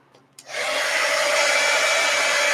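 A hair dryer switches on and runs steadily, blowing to dry wet gold paint on a craft envelope, a loud, close, continuous whooshing whine that starts abruptly after a brief quiet moment.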